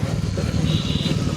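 A motorcycle engine runs steadily on a mountain road trip from Dharchula toward Delhi, a close, low rumbling throb with rapid pulsing and faint wind noise, unbroken across the short moment.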